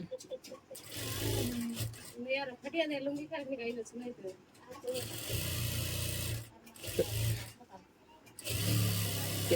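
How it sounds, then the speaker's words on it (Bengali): A sewing machine stitches a patiala pajama in several loud, buzzing bursts separated by short pauses, close up, with a person speaking between and over the runs. "এক চাপ করে এটা সেলাই মেরে দিলাম, এখানে 5টা সেলাই হবে।"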